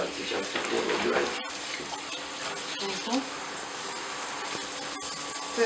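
Tap water runs steadily in a broad hiss while an orangutan is bathed, faint and continuous throughout with small splashes and handling noises.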